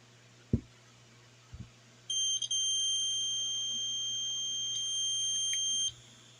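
After a couple of faint clicks, a high-pitched 6-volt electronic buzzer on a DIY continuity checker sounds continuously for about four seconds, steady and piercing, then stops.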